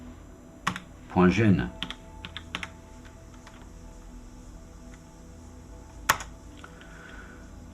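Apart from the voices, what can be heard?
typing on a computer keyboard while editing a file in vim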